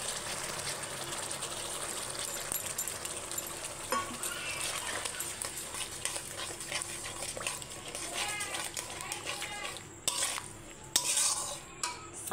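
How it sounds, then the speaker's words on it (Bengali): A spoon stirring spice masala with whisked sour yogurt in a pan for Kashmiri aloo dum, with repeated light scraping and clinks against the metal over a steady background hiss, and a few louder knocks near the end. "দিয়ে মশলাটা আর একটু ভালো করে কষিয়ে নেবো।"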